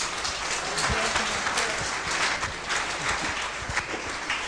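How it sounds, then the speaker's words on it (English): A Methodist church congregation in Ghana claps for a visiting bishop, a steady wash of hand clapping heard at some distance. "Oh, shall we give a better clap?"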